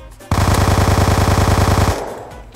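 An MP7 from a CS:GO weapons mod in Minecraft fires one loud, rapid automatic burst of about a second and a half, then cuts off and leaves a short fading tail.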